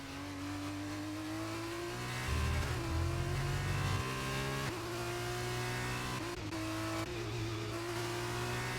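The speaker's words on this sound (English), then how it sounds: "Really revved up the car." A Formula 2 race car at Bahrain under the lights, engine revving hard as the driver gets on the gas, a loud sustained roar with rising and shifting pitch and a few gear changes, no voices.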